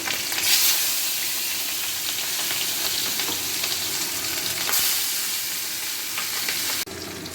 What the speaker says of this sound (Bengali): কড়াইতে তেল গরম করে এবার আমি আস্তে আস্তে মাছগুলোকে ছেড়ে দিচ্ছি